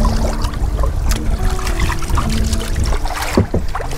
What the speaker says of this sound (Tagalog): Kailangan maintain mo din yung pagsasagwan.